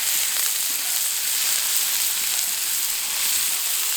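Steady, close and loud sizzling of lamb shawarma kebab burgers frying on a hot BBQ plancha, a continuous bright hiss with faint crackles and no talk.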